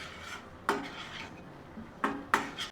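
Eggs are turned through spice paste in a pan, a few sharp scrapes and clinks of a utensil against the pan amid faint background hiss.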